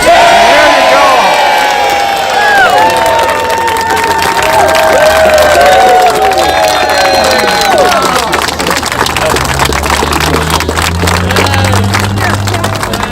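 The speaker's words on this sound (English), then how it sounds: "And the crowd goes wild." A crowd at an outdoor street dedication in Forest Park cheers wildly, with whoops, shouts and applause layered together, loud and close, and rising, falling yells from individual voices through the cheering.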